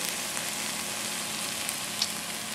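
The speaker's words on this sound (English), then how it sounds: "I just wanted to give you a shot of the onions cooking after about 10 minutes" Onions frying in a pan for French onion soup, about ten minutes in and turning golden brown, give a steady, dense sizzle and crackle that stays even throughout with a few small pops.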